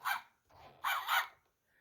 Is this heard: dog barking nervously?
yes